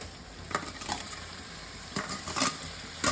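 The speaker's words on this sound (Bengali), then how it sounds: "আমি বাঁধাকপিটা আগে ভালো করে এই মশলার সঙ্গে ভেজে নেব" Cabbage fries with spices in a pan, giving a low, steady sizzle broken by a few sharp scrapes and clinks of stirring, close up with no one speaking.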